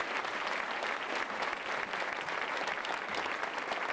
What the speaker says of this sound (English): how about a nice round of applause for this exceptional airman?